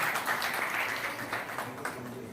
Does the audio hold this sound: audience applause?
yes